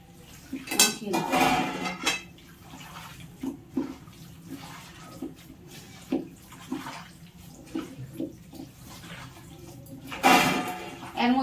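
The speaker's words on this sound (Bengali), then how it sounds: "মশলাটা ভালো করে মাংসতে মাখিয়ে নেব।" Chicken pieces, two leg pieces among them, are worked with spice paste in a pot for a chicken curry, giving wet squelching and clinking pot sounds in irregular bursts, with a louder clatter near the end.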